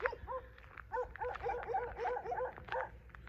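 Dogs guarding sheep bark outdoors in a rapid string of sharp, yelping barks, moderately near, with several barks overlapping in quick rhythm.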